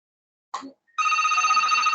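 A telephone rings with a steady, bright electronic trill that starts about halfway through and continues to the end, preceded by a short unrelated knock or voice fragment; no one speaks over the ring.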